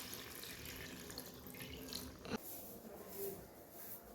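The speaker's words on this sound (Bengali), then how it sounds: "চলো এবার একটু জল দিয়ে দিই, ঠান্ডা জলই দিই" Cold water splashes and trickles into a pan of fish curry in a home kitchen, a steady pour with a brief louder splash midway, fairly soft and without speech.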